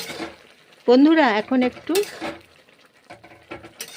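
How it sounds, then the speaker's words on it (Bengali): Broccoli, pea and mung dal curry being stirred and fried in a pan: scraping and clinking of a utensil against the pan over a soft sizzle, with someone speaking over it midway. "তারপরে নেড়ে চেড়ে কষে নিচ্ছি"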